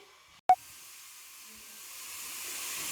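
Pressure cooker hissing while mutton boils inside, a sharp burst at the start, then a steady steam hiss that slowly grows louder and brighter, with no one talking.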